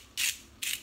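Two short, crisp grinding bursts from a salt grinder over lemon cream pasta, close and fairly loud, separated by a brief pause, followed by a faint tap.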